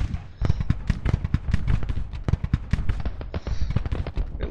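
Artillery and musket fire in the Civil War strategy game Grand Tacticians, a dense run of sharp booms and crackling shots in rapid irregular succession, loud and continuous throughout.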